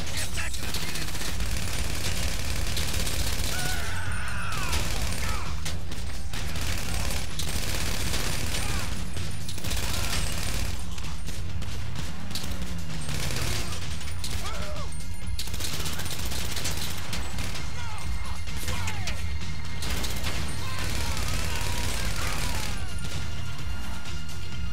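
Gunfire in Grand Theft Auto 5 rattles almost nonstop: loud bursts of automatic weapons and dense volleys with occasional crashes, while players talk over the din.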